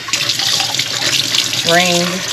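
Water running from a tap during rinsing at a campsite, a loud continuous splashing stream with a rising filling tone near the end.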